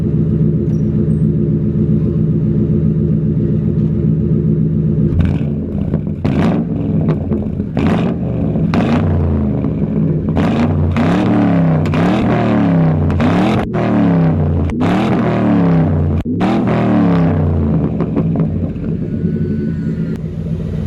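A 2004 Ford Crown Victoria with catalytic converters deleted and single-chamber Flowmaster mufflers idles with a deep, steady rumble, then blips through a series of loud, rhythmic revs, each rising and falling sharply.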